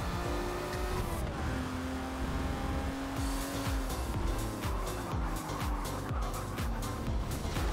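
A race car in Forza Motorsport 7 revs hard and shifts, then its tires squeal and skid while the engine keeps roaring loud and close, with rapid rhythmic engine pulses.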